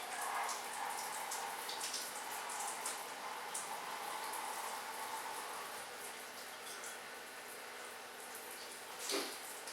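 Steady rush of a running water tap as rubber items are rinsed beneath it, a continuous close splashing flow with a brief louder splash near the end and no talking.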